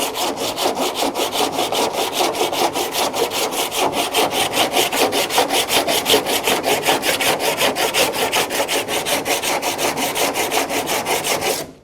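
A file works lightly across a weld on a shaved metal door handle in long, even back-and-forth strokes, a close rhythmic rasping that repeats steadily and stops abruptly at the end.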